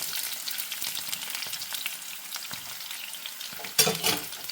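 Chopped ginger, garlic and green chilies fry in a pan for soya chunk pickle, giving a steady soft crackle and sizzle and then a louder spitting burst near the end, close up without speech.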